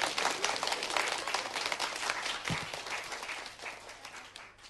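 A studio audience at a televised children's show applauds. The clapping is loud and dense at first, then gradually thins and fades, with no voices heard over it.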